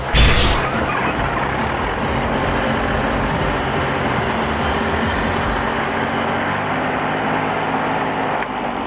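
A farm tractor runs steadily while plowing a field, its engine a loud, constant rumble with broad mechanical noise throughout, easing slightly near the end as the throttle comes back.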